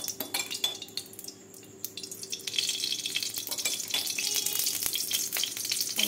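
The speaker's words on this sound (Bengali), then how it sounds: "দিয়ে দেবো সর্ষের তেল।" Mustard oil poured into a hot pan just after frying brinjal, rising into a steady hiss and sizzle that holds for several seconds, preceded by brief clinks of utensils in a quiet kitchen.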